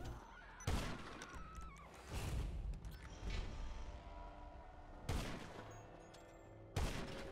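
Gunshots in GTA 5 Online ring out as a few loud, separate blasts spread across the stretch, each with a ringing tail, over a busy game background.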